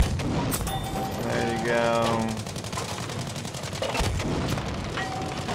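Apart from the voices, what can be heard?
tank cannon shots in the video game Battlefield 5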